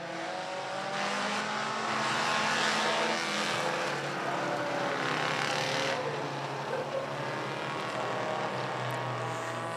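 Four-cylinder race cars roar around the track at Willard Speedway at the finish of a weekly feature, a continuous loud engine drone with shifting tones as cars pass, steady throughout.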